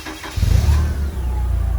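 A forklift engine cranks briefly and catches, settling at once into a steady, close, mid-pitched idle with no talking.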